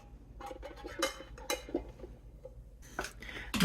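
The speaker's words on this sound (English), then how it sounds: "I'm gonna put in my 4 mason jars" Four glass mason jars of cinnamon cheesecake set into an 8-quart pressure cooker pot, giving a few light clinks and knocks of glass against metal spread over a few seconds, close and fairly quiet.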